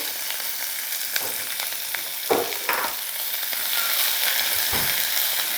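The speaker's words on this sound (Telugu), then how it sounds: "ఉల్లిపాయ ఎక్కువ వేగాల్సిన అవసరం లేదు" Onion fries with tempering spices in oil for cauliflower curry, a close, steady sizzle broken by several scraping stirs of a spoon against the pan, with no talk.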